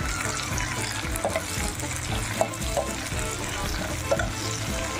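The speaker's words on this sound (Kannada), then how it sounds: "ನೆಕ್ಸ್ಟು ನಮ್ಮ ಕೆಂಪು ಟೊಮ್ಯಾಟೊ ಮಿಕ್ಸ್ ಮಾಡಬೇಕು" Red tomato sizzles loudly in an oiled pan while a spoon stirs and scrapes through it, dense frying crackle with occasional sharper clicks of utensil against metal.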